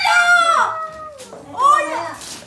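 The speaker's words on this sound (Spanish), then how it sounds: "¡Gallina!" A chicken gives two loud, close clucking calls, each a rising then falling squawk with a short gap between them.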